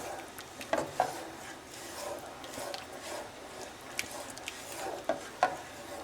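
Pasta sauce with sun-dried tomato and melted Parmesan being stirred in a pan, soft repeated scraping and rubbing strokes over a gentle low sizzle, close and fairly quiet.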